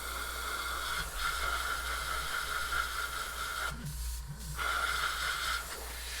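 An airbrush sprays paint onto a Sons of Behemat miniature with a continuous soft hiss, close and quiet, with brief pauses where the flow stops.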